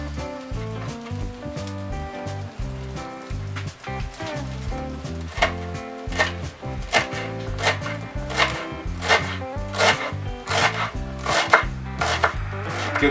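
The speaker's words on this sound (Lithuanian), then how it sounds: "Ir taip pat susmulkinam ir petražolės" Fresh parsley is chopped with a knife on a board for a Georgian shkmeruli dish, a rapid, fairly regular run of crisp, close knife strikes that continues without pause.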